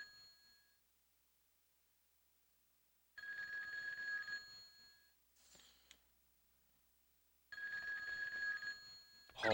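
A telephone rings in the video game Grand Theft Auto 2, two clear bursts of bright electronic ringing separated by silence, with a short noisy sound effect between them.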